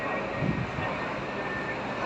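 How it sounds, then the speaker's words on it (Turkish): A propeller training airplane drones overhead, a steady engine hum passing above for a couple of seconds. "Bu sefer eğitim uçakları gelip gidip duru"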